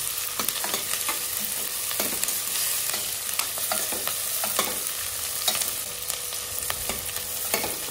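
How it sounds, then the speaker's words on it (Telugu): Chopped onions fry in hot oil in a home kitchen for a rice kichidi, a steady close sizzle broken by frequent scraping and stirring clicks, with no talking. "తర్వాత ఆనియన్ వేసి ఆనియన్ కూడా ఫ్రై కావాలి."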